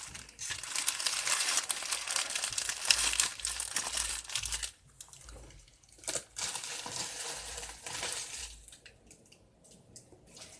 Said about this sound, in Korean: 이거는 레진을 말리는 곳이나 이 그 약간 잘 묻는 거를 방지해주는 그런 비닐들